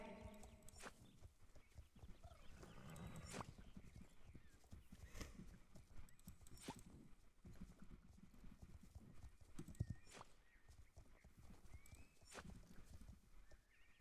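Steady clip-clop of horse hooves in a video game trots along at an even rhythm, with occasional sharper clicks over a soft background.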